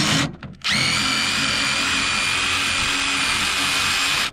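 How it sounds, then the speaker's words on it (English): A power drill runs at a steady high whine to remove a speed binder from a concrete footer install, briefly sputtering at the start before holding a loud, continuous pitch. "I'm holding the camera and running the drill"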